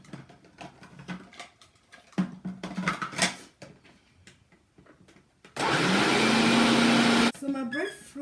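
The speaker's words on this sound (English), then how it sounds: "And I'm going to blend this together." Loud kitchen blender whirs steadily for about two seconds, blending breadfruit with chili pepper, garlic and yellow onions, its motor pitch rising as it runs; someone talks before it starts and over the sputtering after it stops.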